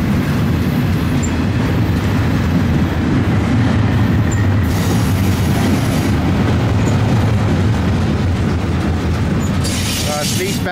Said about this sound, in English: Eastbound Intermodal here.